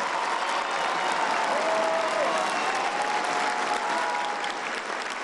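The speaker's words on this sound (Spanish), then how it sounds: "Un aplauso para los hermanos migrantes." Outdoor crowd at a public welfare-programs event in Tepeaca, Puebla, applauding for migrants, a dense sustained wash of many clapping hands that runs loud and even throughout, with a faint engine-like hum beneath.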